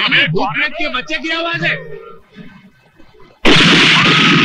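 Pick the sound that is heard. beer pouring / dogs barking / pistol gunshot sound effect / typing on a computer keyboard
pistol gunshot sound effect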